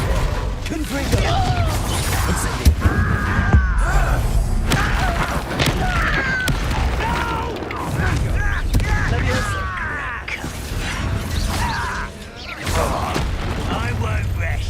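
Repeated Confringo blasting-curse explosions in the Hogwarts Legacy video game: heavy booms and thuds land one after another over nearly fifteen seconds, layered under battle noise and voices talking throughout.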